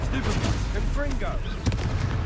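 Confringo blasting spells in the Hogwarts Legacy video game during a duel, heavy booming blasts and crackling impacts layered with chaotic battle noise and voices.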